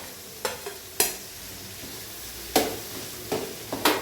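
A spoon stirs beef roast masala with tomato, ginger and garlic in a pan, giving several sharp scraping knocks spaced irregularly over a soft background sizzle.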